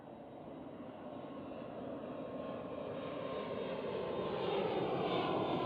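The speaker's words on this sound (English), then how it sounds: "KLM Cityhopper E175." A KLM Cityhopper Embraer E175 regional jet at Amsterdam Schiphol airport gives a broad, steady engine roar that builds gradually in loudness, heard at moderate distance with no talk.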